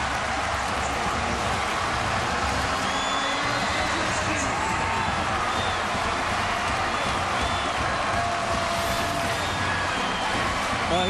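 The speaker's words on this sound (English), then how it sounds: "And that awakes this crowd here." Roaring stadium crowd at a 2008 college football game between South Florida and Central Florida, erupting after a touchdown. A dense, loud, continuous wall of cheering holds steady throughout, with commentary voices talking over it.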